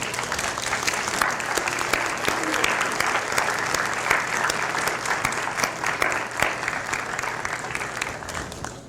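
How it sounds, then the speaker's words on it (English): Continuous audience applause at a dental school commencement in 2018, with dense, even clapping and some sharper individual claps throughout, sustained without a break. "give them a round of applause"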